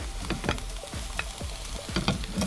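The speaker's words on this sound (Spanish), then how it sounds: "vamos agregando la papa que tenemos previamente cocida" Pre-cooked potatoes tumble into a hot pan and are stirred, giving a steady broadband sizzle punctuated by repeated scraping and clattering knocks of the utensil, close and fairly loud with no talking.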